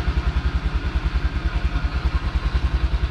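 A 2023 Honda BeAT Street scooter engine runs right after an oil change with fresh full synthetic oil, idling close by with a steady, rapid pulsing putter and no talk over it.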